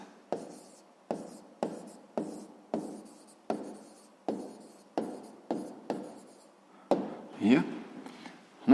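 Pen or pencil writing the answer to a sixth-grade math exercise, a run of short evenly spaced scratching strokes close up, followed by a louder rustle toward the end; a voice is faintly present.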